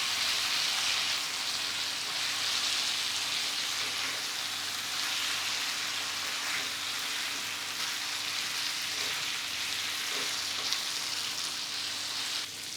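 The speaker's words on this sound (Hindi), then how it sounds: "फ्लेम को हाई करके 2 से 3 मिनट फ्राई करेंगे मटन को अच्छे से।" Mutton pieces frying on high flame in a pot or kadai for a Bakra Eid mutton dish, a continuous dense sizzle with a faint steady hum beneath, unbroken for several seconds with no talking.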